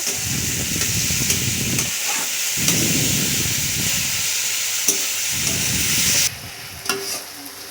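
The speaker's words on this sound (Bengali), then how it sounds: "সমস্ত রকম মশলাপাতি দিয়ে টমেটোটা দিয়ে হালকা একটু আবার লবণ দিয়ে আমরা এবার সব কিছু মেরে নিচ্ছি একসঙ্গে" Tomatoes with spices and salt fry for a chicken curry, a loud, close hissing sizzle broken by repeated bursts of scraping as the mixture is stirred, fading to a quieter hiss at the end.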